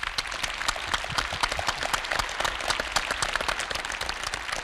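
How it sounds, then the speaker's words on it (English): A conference audience in a rotunda hall claps steadily throughout, a dense, even wash of many hands heard alone with no voices over it. "So give them a warm round of applause."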